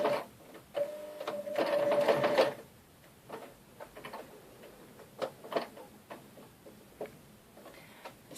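A domestic sewing machine runs a short burst of stitches through fabric, a steady mechanical whirring with a loud run in the first few seconds, followed by softer scattered clicks and taps as the fabric is adjusted.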